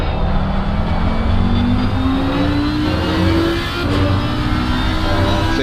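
A race car lapping Valencia in the racing game Assetto Corsa Competizione, with a loud, continuous engine drone whose pitch climbs steadily as it accelerates, then briefly dips under braking.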